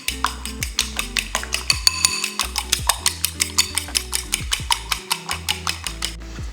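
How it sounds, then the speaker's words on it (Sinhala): Eggs beaten with a whisk or fork against a bowl for a spinach and cheese omelette, a steady fast rhythm of sharp clicking taps, close and clear, with low music running underneath. "අපිට බිත්තර ටික මේ විදිහට බීට් කරගන්න පුළුවන්"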